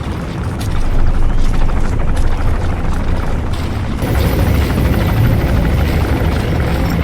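A helicopter in the video game Metal Gear Solid V: The Phantom Pain gives a loud, continuous rotor roar with steady chopping thrum that swells slightly and carries on throughout, no voices over it.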